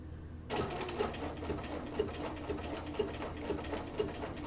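A sewing machine stitching applique on a quilt, starting after a short pause into a steady, quiet mechanical whir with soft regular ticks of the needle, close and alone.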